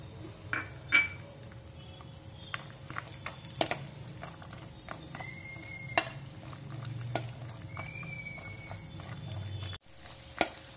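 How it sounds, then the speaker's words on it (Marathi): Cashews frying in hot oil in a kadhai, a steady low sizzle running throughout with occasional sharp utensil clinks and stirring scrapes, close and moderately loud, with no one speaking. "आपण मस्त काजू तळून घेणार आहोत, फक्त कुरकुरीत होतील असे काजू तळून घ्यायचे आहेत"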